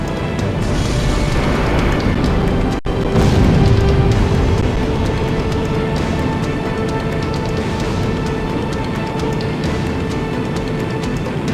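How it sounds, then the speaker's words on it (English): A deep, sustained rumbling boom from a giant fortress cannon blast in Ace Combat X, loud and continuous, with a brief dropout before a heavy low roar swells and lingers. "Cannon firing!"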